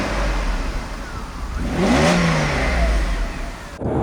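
A 32-year-old Mercedes W140 600 SEL with its V12 engine revs up smoothly from a low hum, climbing and then easing back. The engine note is loud and close, with no voices.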